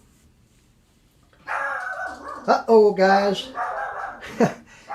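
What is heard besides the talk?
Yorkshire Terrier barking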